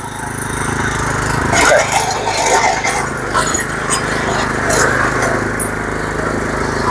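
A 7 hp petrol power weeder engine runs steadily and loudly throughout, with a rough, buzzing drone and faint voices underneath.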